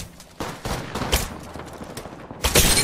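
Gunfire in the Apex Legends battle royale game, a rapid burst of shots followed by scattered single cracks and a heavier volley at the end, close and fairly loud, with no talk.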